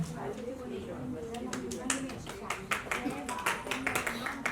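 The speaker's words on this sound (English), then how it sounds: "a big round of applause for Dr. Jyoti Chandian" Clapping builds at an event launch for a guest doctor, scattered claps emerging over a talking voice and growing into a denser, rhythmic patter toward the end.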